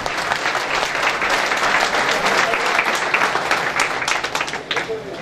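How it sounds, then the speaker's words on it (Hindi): Dense audience applause fills the whole stretch at a Sialkot pigeon-flying event, steady and loud, with scattered voices mixed into the clapping. "भरपूर तालियों में इस साल को वेलकम"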